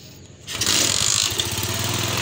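A Suzuki Smash 115 motorcycle engine sputters to life after a brief quiet moment, then settles into a loud, rough, steady rumble close by.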